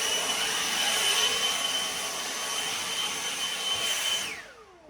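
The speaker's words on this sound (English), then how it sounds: "If you've got a blower, literally," Blower roaring steadily at close range to clear sawdust after boards are cut for stud walls, a loud, even rushing whine that holds for several seconds and then spins down at the end, with no voices.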